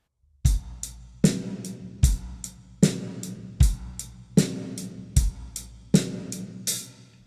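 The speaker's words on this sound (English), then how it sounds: "So we all know what an 8-note groove sounds like." A drum kit plays a steady eighth-note groove: hi-hat pulses with kick and snare hits, evenly spaced, close and punchy.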